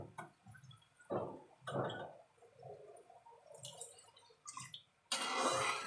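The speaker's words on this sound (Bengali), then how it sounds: "এবার আমি একটু জল দেবো।" Water poured into a pan of kajli fish curry on the stove, heard as a few short splashing gushes and a louder sustained pour at the end, with quiet hissing of the pan between.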